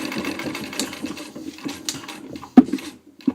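A Singer 15 treadle sewing machine with crinkle finish stitches away in a quick, steady rhythmic patter, close and fairly quiet, ending with a couple of sharp clicks and knocks.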